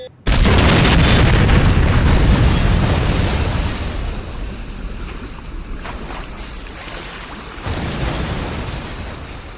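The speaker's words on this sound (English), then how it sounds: "A deadly explosion has rocked the waterfront." A huge explosion at the waterfront in the video game Saints Row bursts in abruptly as a loud, broadband boom, then rumbles and fades, with a second swell of roaring debris noise near the end.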